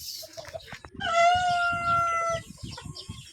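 A brood stag rooster crows once, loud and close, in a small backyard chicken yard, a long sustained cock-a-doodle-doo with other clucking and yard sounds around it.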